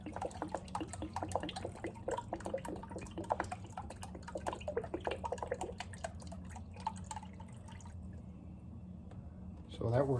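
Water trickles and drips into a container holding a soaking white-tailed deer skull, a steady light splashing under a voice that drops away near the end.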